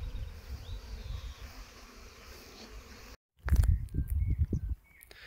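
Honeybees from the garden hives make a low, steady buzz close by, followed by a short silence and then louder, irregular bursts of close buzzing and rustling.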